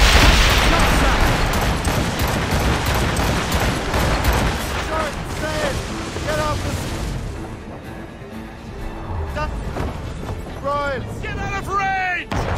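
Naval cannon fire in the video game Assassin's Creed Rogue, heavy booming blasts and crackling volleys under shouted commands from the crew, the barrage thinning midway before more bangs and yelling return.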